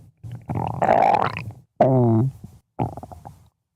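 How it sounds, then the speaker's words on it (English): Belly gurgling after drinking homebrew: three close, loud bursts of watery rumbling, the middle one a rising squeaky gurgle, with brief silences between them and no talk. "That is my belly gurgling from drinking off homebrew."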